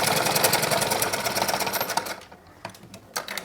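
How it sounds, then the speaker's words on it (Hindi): A sewing machine stitches blouse fabric, running steadily and loudly for about two seconds before easing into a few short bursts, close up, with no voices. "तो देखिए अभी हमने नीचे की तरफ भी सिलाई लगा लिया है"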